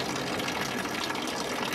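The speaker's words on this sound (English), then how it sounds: "And get as much of the water out as possible, and we're going to water some of the perennials." Water pouring and gushing steadily from a tipped garden container being emptied for winter, a continuous rushing splash throughout.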